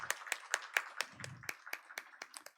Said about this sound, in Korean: 그래서 그런 역할을 해주시는 분들께 감사의 박수를 드립시다.